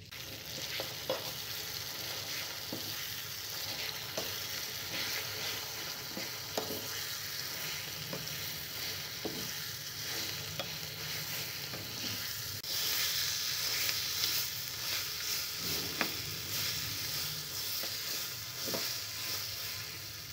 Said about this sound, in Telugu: తాలింపు ఫ్రై అయిన తర్వాత ముందుగా నూరుకున్న కొత్తిమీర పచ్చడి వేసుకొని కలుపుకోవాలి.